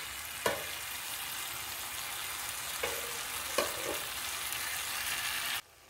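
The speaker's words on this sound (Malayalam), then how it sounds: "മൂടി വെച്ച് നമുക്കൊന്ന് ഒരു 6-7 മിനിറ്റ് വേവിച്ചെടുക്കാം" Long beans stir-fry cooking under a lid in a pan, a steady close sizzle and crackle of frying with a few faint clinks, ending in a sudden drop to near quiet.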